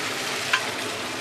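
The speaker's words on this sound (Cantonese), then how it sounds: "我哋就放晒呢個蒜落去啦，唔係放晒呢個豆豉落去一齊炒" Garlic and fermented black beans stir-fried together in a claypot for black bean chicken give a steady, close sizzle with a brief sharper crackle midway, and no voices.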